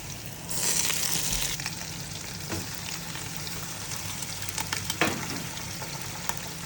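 Noodles fry in a pan with a steady, close sizzle throughout. Now and then there is a soft scrape of stirring.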